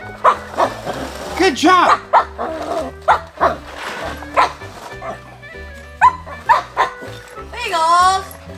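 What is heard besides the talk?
dog barking at a toy truck stop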